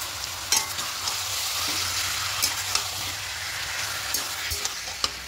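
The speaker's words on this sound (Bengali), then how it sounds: "ভালো করে কষিয়ে নিচ্ছি।" Chicken sizzles and is stirred in a pan with spices for a thin chicken curry, a steady close frying hiss broken by scattered sharp spoon scrapes and clinks, with no talking.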